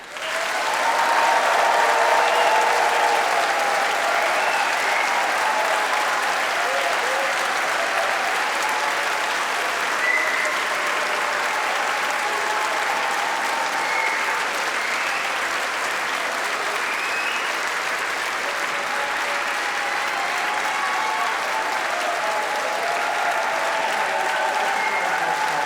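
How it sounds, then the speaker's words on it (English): A large graduation ceremony crowd gives the graduates a long, loud, sustained round of applause, a thick wash of many hands clapping continuously with faint cheers mixed in, holding steady throughout. "congratulate them by giving them the loudest round of applause"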